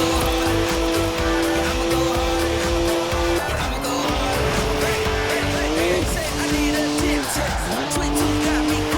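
Drifting car in Forza Horizon 4, a twin-turbo 3-litre straight-six with 335 horsepower, roaring loudly and continuously while its tires squeal in long sweeping tones that rise and dip with the slides.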